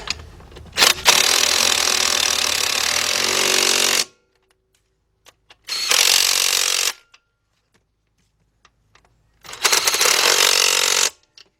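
A power ratchet tightens bolts with a 17mm socket on the 2.7 engine of a 2006 Kia Sportage, giving three loud, harsh bursts of rapid mechanical rattling, long then short then medium, separated by near silence.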